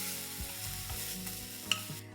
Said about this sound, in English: So after the cumin seeds start spluttering, I'm going to add in this paste. Saute the paste nicely